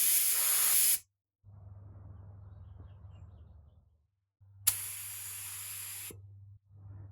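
A finishing spray gun with its fan opened wide hisses in two loud bursts. Each burst cuts off sharply, and a low compressor hum runs between them.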